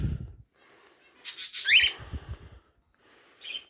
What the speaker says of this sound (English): And there's the birds again.